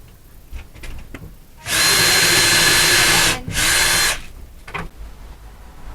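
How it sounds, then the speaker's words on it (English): A power drill drives screws into wooden slats in two loud, close bursts, a long whir followed by a brief pause and a shorter second run, set against quiet background noise. "so we're screwing down all of the slats"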